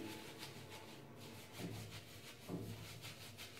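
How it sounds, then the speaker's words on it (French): Fingertips rubbing over a scalp without nails, a soft, close, continuous scratchy friction with gentle rhythmic strokes, quiet and steady throughout. "je frotte juste avec mes doigts, pas avec les ongles"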